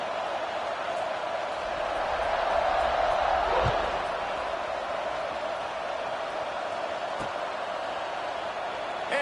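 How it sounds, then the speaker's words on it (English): Steady crowd roar of a stadium in the NCAA 26 college football video game, a broad continuous wash that swells slightly near the start, with a brief thud midway and no clear talk. "You think this crowd's going to get loud when their defense comes on the field?"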